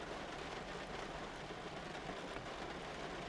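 Soft, steady rain falls as an even, faint hiss with a gentle pattering texture and no breaks.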